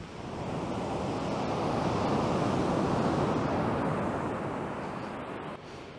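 Sea waves on Budva beach in November roll in as a broad steady wash of surf, swelling and fading gently with a soft breeze.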